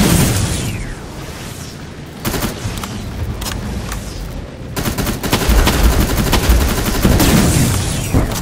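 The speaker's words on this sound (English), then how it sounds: "stop firing those things at me!" Loud, close bursts of automatic gunfire and explosive booms in the video game Terminator: Resistance, erupting in dense volleys with brief gaps between them and no talk.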